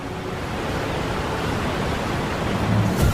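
Broad steady wash of sea waves on the Red Sea shore, a constant hissing surf with a low rumble swelling slightly toward the end, with no voices.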